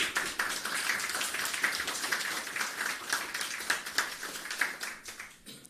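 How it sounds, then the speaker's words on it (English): Applause for Minister of Agriculture, Fisheries and Mining Floyd Green at a hurricane recovery event, a steady patter of many hands clapping at a moderate distance, holding even before tapering off near the end. "Give him a round of applause, please."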